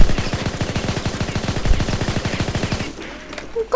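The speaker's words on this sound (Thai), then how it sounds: "ผมจะยิงทีละสามนัดเพราะว่ามันโอเคว่ะยิงทีละนัดอ่ะ" Rapid bursts of gunfire from the online shooter InZone Online crackle loud and close in a steady rhythmic rattle for nearly three seconds, then cut off, leaving faint game ambience and one last sharp shot.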